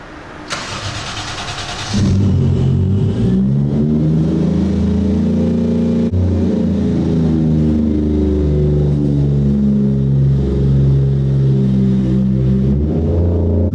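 A Subaru's engine starts up close by in Sochi, then revs and pulls out of a parking garage, its pitch rising and falling through gear changes as it accelerates.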